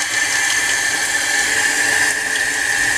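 Cold water runs steadily from a kitchen faucet fitted with an LED water-temperature indicator gadget, a loud, continuous close-up hiss and splash with no voices.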